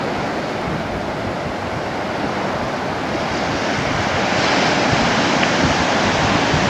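Ocean surf roars steadily along the shore near Newport, a broad, continuous wash of breaking waves mixed with wind buffeting the microphone, with no voices.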